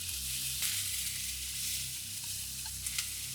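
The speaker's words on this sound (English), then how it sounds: "the sizzling is obviously the water from the washing" Steady, loud sizzling and crackling of wet shirataki noodles frying in a hot pan, continuous throughout with occasional sharper pops.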